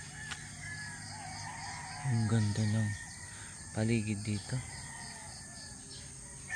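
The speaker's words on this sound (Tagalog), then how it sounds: "may mga manok." Roosters crow in a hillside village with chickens and houses below, two long loud crows a second or so apart, heard outdoors under steady background noise while someone speaks quietly.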